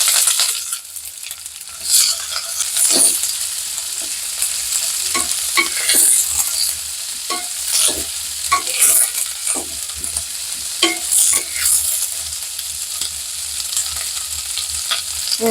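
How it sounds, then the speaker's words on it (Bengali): Cumin, dried chilli, bay leaf and onion sizzle in hot oil in a kadai, with repeated scraping and clinking strokes of a spoon stirring through a soft, steady frying hiss and no talking. "আর এই যে কড়া এবার তেল দিয়েছি এর মধ্যে জিরে শুকনো লঙ্কা তেজপাতা ফোড়ন দেব এবার এর মধ্যে দেবো আমি পেঁয়াজ"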